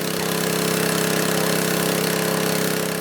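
A rickety motor pumps water from the Unzi river, running loud and steady with a harsh, rattling drone throughout and no voices.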